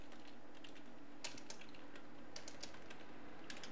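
Typing on a computer keyboard while writing code in Visual Basic Express 2008, with a steady run of quick, light key clicks and no talk, heard close up.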